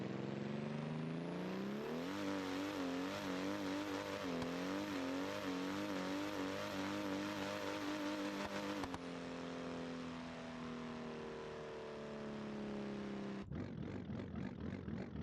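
A drag car launching on nitrous in BeamNG.drive, its engine screaming in one long sustained high rev that climbs and holds, then drops abruptly and trails into a lower drone before a pulsing burst at the end.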